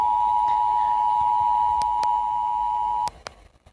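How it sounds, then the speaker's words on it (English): Loud, steady single-pitch emergency alert system tone from an analog horror episode, held for about three seconds before cutting off abruptly, with a few faint clicks and no voices. "Emergency alert system."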